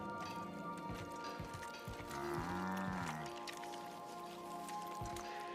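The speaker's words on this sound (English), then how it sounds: "Where'd these woolly cows come from?" Woolly cows mooing in the video game The Outer Worlds, a low drawn-out moo with rising harmonics in the middle, set over game ambience with soft clicks and patter.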